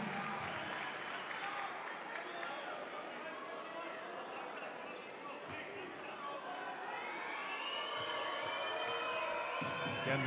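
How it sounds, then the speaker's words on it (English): Crowd noise filling a basketball arena during a Champions League game, a continuous wash of applause and chatter with a commentator talking over it throughout. "Again, the crowd."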